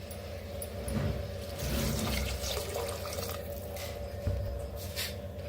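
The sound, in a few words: water poured into cooking pot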